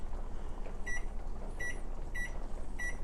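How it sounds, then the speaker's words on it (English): A kitchen timer beeps during stovetop cooking, four short electronic bursts spaced evenly about a second apart, clear over a steady low background hum. "I didn't know that that was a timer for food"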